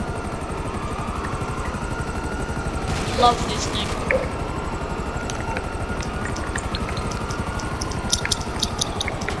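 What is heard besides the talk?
plane engine flying in video game GTA Online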